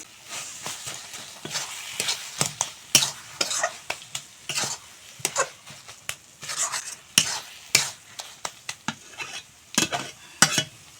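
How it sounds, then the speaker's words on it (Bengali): Fried dry chilli being stirred and mashed into cabbage in a pan gives a busy run of scraping, tapping strokes with a light sizzle, close and uneven, with no talk. "এখন একটু নুন দিয়ে ভেঙে গুঁড়ো করে বাঁধাকপির সঙ্গে মিশিয়ে নেব"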